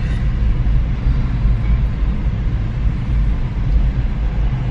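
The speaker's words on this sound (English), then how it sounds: "This train will not end." Steady low rumble of a train rolling past, continuous and loud with no breaks, no voices.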